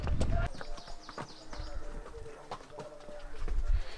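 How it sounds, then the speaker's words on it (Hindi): Horses' hooves clip-clopping on a hiking trail near Nathia Gali, scattered hoof strikes at close to middle distance with birds cooing nearby and people talking over them. "लोग देखें घोड़ों पे जा रहे हैं"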